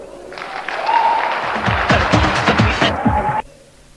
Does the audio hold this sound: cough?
no